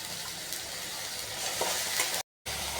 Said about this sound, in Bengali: পেঁয়াজ আমার ভাজা হয়ে গেছে